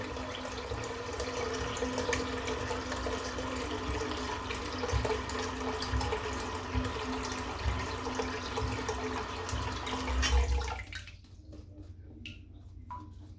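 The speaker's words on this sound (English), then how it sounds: "I'm just going to fill the sink up" A bathroom sink fills from a running tap before a shave, a steady, close rushing of water that stops near the end and leaves a few faint drips.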